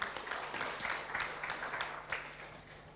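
An audience at a hackathon gives a presenting team a round of applause, a steady patter of many hands clapping that fades slightly toward the end, moderately distant and fairly quiet.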